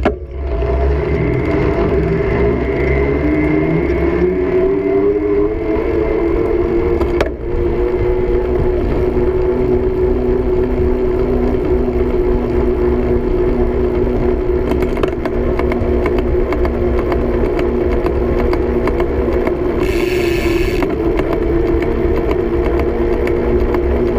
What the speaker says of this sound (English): Just to give you a feel for how the motors might sound slightly different